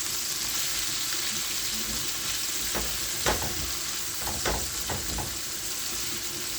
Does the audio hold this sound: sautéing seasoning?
yes